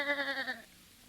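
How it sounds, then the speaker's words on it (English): A sheep gives one short, wavering bleat as a sound effect in a 1930s-era Lux Radio Theatre drama about Louis Pasteur. It is close and clear, then fades into quiet. "That sheep doesn't seem to agree with you, Dr. Radis."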